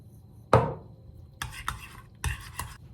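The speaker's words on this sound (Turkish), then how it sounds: "Sarımsakla yoğurdu şöyle güzelce bir karıştırıyorum." A utensil stirs crushed garlic into yogurt in a bowl, starting with one sharp clack against the bowl and then a few short, soft scraping strokes in a quiet room.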